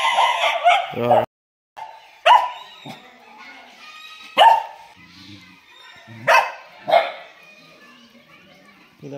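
Dogs barking around a Buddhist temple at Ledu, several loud close barks in irregular bursts with brief pauses, a faint cluck-like call between them.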